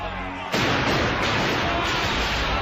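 Gunfire in a fantasy drama battle scene erupts suddenly as a loud, dense blast that keeps roaring with fresh bursts, following a brief moment of quieter sound.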